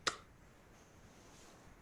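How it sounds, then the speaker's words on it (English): A single sharp finger snap cracks close and clear at the start, followed by quiet room tone. "I'm going to snap my finger."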